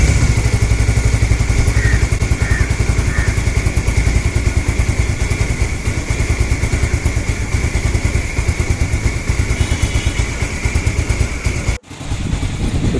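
A Bajaj Avenger Street 220 motorcycle engine runs close by with a loud, steady, throbbing idle that carries on without a break and dips briefly near the end.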